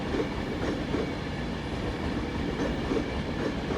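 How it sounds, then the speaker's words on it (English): A Class 390 train passes through Carlisle station on the West Coast Main Line with a steady, loud rumble and rail noise, close by and continuous. "I shall get the number of this 390 when she departs."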